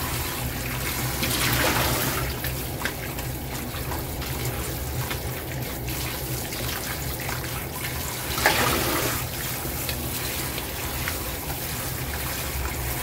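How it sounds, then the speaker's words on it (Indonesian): Tap water runs steadily into a sink while food is washed clean for a homemade snack, a continuous close splashing rush with brief swells as the pieces are handled, no talking. "Kita cuci bersih guys, dan ini ada yang gede"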